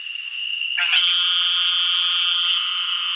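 An Eastern narrowmouth toad calls with a long, loud, buzzing bleat like a sheep, one call after another that merge and overlap, heard close and alone for several seconds.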